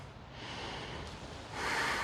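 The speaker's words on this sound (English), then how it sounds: "Keep breathing." Deep breathing during a Hatha-Vinyasa yoga flow, a steady audible exhale through the nose that swells into a louder breath near the end, close and alone without talk.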